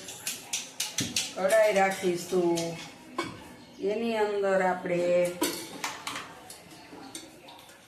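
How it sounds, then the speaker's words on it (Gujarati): A few metallic clanks and knocks of a metal wok being set on a gas stove, followed by someone speaking steadily over quiet kitchen sounds while making lemon pickle. "હવે આપણે કડાઈ રાખીશું।"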